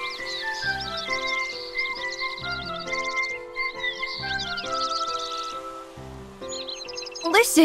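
Bird chirps and warbling songs from the Kingdom Hearts III video game ring out near and steady throughout, over a layered musical score, with a louder rising sweep at the very end.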